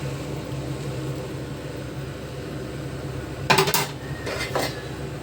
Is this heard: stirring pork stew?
yes